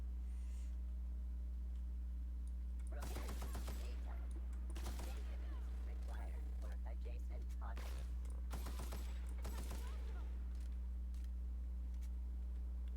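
Gunfire in The Outer Worlds, several bursts of rapid shots in clusters over a low steady hum, separated by quieter gaps.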